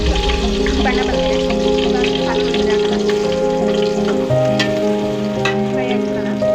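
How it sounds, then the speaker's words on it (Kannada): Loud, continuous sizzle of ingredients frying in a pan for egg sambar, a dense close hiss with occasional crackles and faint stirring, no voices. "ಫ್ರೈ ಆಗ್ತದೆ."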